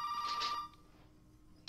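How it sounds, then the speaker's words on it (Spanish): A telephone rings in the survival horror video game Resident Evil VII, a loud electronic bell burst followed by a quieter gap and a second ring starting near the end, with no talk over it. "Ah, el teléfono."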